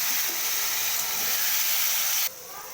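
Cut potatoes and carrots tipped into very hot oil with cumin seeds, giving a loud, steady hiss of frying that suddenly drops to a softer sizzle near the end.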